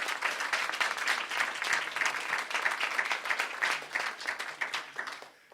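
An audience at an Acadian Remembrance Day ceremony applauds, a broad and lively wash of clapping that carries on steadily before fading out toward the end.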